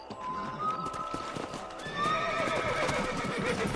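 Horses ridden in a Western video game: steady clip-clop hoofbeats with neighing and whinnies, close and clear against a busy game soundscape.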